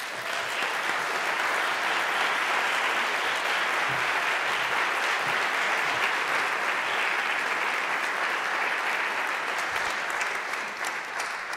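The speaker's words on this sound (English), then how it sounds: "invite you all to give a big applause to all these academics and students" Conference audience at the Arqus Annual Conference in Padua applauding, dense sustained clapping from a large crowd, steady and loud across the whole stretch with no voices.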